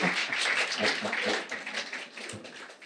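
Audience applause at a live stage show, a steady patter of many hands clapping that fades slightly toward the end.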